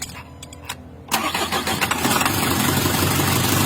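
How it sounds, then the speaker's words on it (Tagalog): A car engine that is not running right cranks briefly, then catches and settles into a loud, rough idle close by. "So try na natin tong paandarin."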